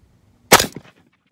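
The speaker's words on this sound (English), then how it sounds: "Close them and pull the trigger." A single sharp rifle shot fired while sighting in at 1,000 yards, a loud close crack followed by a short decaying echo, isolated in otherwise quiet surroundings.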